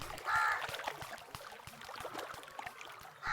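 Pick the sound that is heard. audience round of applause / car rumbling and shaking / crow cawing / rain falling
crow cawing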